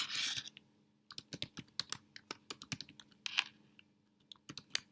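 Keys clack on a computer keyboard as a username is typed: a quick, irregular burst of close, crisp keystrokes with brief pauses and no talking.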